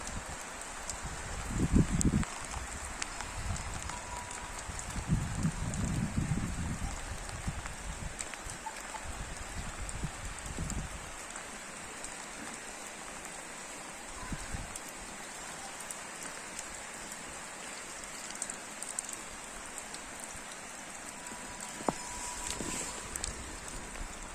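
Rain falls steadily outdoors, a soft constant patter with a few louder drips and some low rumbles and rustles early on.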